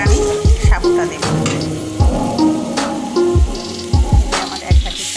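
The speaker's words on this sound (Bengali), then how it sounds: "এবার আমি সাবুটা দেবো।" Sago added to a pot of sweetened liquid on the stove and stirred, loud close scraping strokes repeating against a bubbling, sizzling background.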